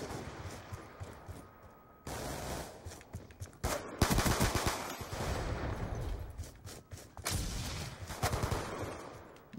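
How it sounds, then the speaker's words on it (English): Gunfire in Call of Duty Black Ops II, pistol shots plus other weapons, sounding as repeated loud bursts and rapid volleys with brief gaps, dense and close throughout. "I'm gonna use my pistol"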